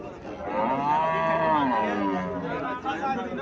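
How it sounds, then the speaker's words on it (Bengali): A Friesian dairy cow moos in one long, loud, drawn-out call close by at a cattle market in Cumilla, with faint crowd chatter in the background. "এখানে আরেকটা গাভী দেখা যাচ্ছে"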